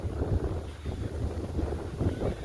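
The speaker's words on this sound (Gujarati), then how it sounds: "અહીંયા કેટલો મસ્ત પવન છે જુઓ ખેતરમાં" Wind blowing across an open farm field buffets the microphone in a steady, rumbling low roar with gusty swells and no voices.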